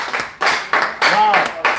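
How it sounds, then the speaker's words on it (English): A seminar audience gives short bursts of clapping, uneven and fairly close, with a whoop or voice breaking through midway. "Round of applause."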